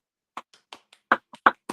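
One person's hands clapping in a quiet room, roughly eight sharp separate claps at an uneven pace, close and fairly soft.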